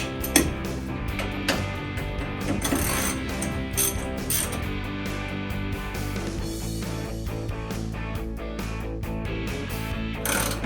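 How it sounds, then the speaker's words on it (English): A ratchet wrench clicks rapidly and steadily as nuts are tightened on a 1954 Chevy Bel Air, loud and close, in a continuous stream of metallic pawl ticks with brief pauses. "Let's tighten up these nuts."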